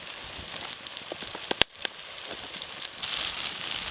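Spices frying in hot oil for a Bengali fish curry, a steady bright sizzle and crackle with scattered pops and one sharp clack partway through, close up and with no voices.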